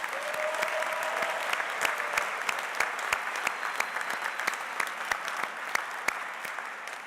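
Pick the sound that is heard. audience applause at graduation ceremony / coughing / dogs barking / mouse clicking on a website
audience applause at graduation ceremony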